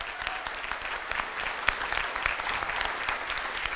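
A seated audience claps loudly and steadily at a business gathering, a dense sustained round of applause held at an even level, with a brief sharp spike midway.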